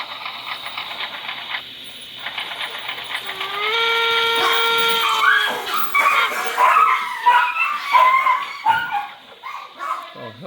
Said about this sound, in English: Oh, hell breaking loose over there with the dog.